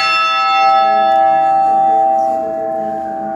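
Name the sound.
three short church bell rings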